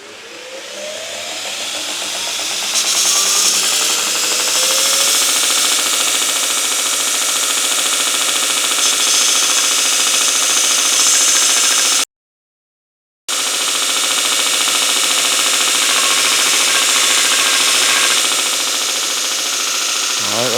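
A belt sander grinds a V groove into vintage cast iron from a seal press embosser, a loud, steady abrasive roar that holds for most of the stretch and breaks off for about a second partway through.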